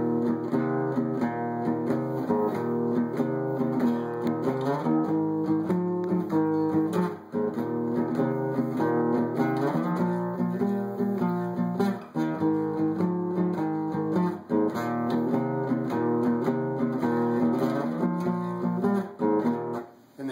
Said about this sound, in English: So the shuffle sounds like this.